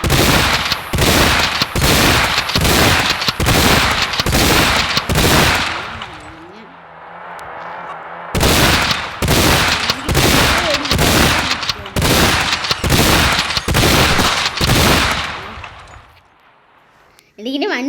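Rifle gunfire in rapid repeated bursts, loud and close, with a pause in the middle where voices are heard. The firing then resumes in another dense series of shots.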